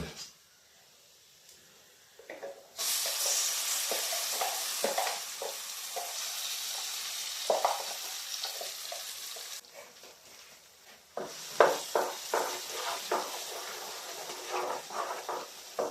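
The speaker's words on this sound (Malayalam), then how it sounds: "ചക്കയെല്ലാം ചേർത്ത് നന്നായിട്ടൊന്ന് ഇളക്കുക." Jackfruit paste stirred into ghee in a pan for a jackfruit leaf-steamed sweet makes a soft sizzle with scraping spoon strokes, starting after a quiet opening, pausing briefly midway, then resuming with sharper stirring scrapes.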